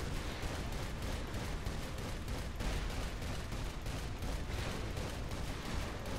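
Gunfire from the video game Saints Row 4, a dense, steady barrage of shots running without a break at moderate level, with sharp bursts packed closely together.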